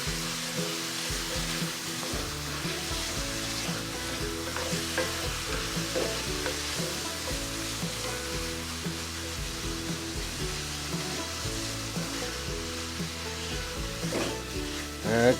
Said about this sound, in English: So I'll take all that, stir it around.